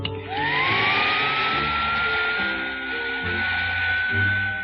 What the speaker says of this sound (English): This is the old vacuum cleaner trick.